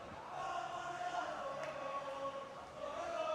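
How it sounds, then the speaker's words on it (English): Stadium crowd at a Philippines Football League match between Loyola FC and Manila Montet FC, a steady distant roar of many voices with swelling chants, faint and diffuse, under a commentator's voice. "You can hear the crowd."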